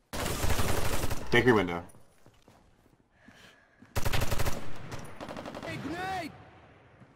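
Automatic gunfire in a multiplayer shooter video game, two loud sustained bursts separated by a pause, with players talking over the shooting.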